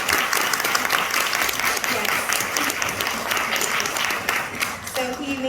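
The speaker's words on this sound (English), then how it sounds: "can we just give him a round of applause?" An audience at a January church meeting bursts into steady, dense applause for the man who made the candles, clapping loudly throughout with a few voices rising near the end.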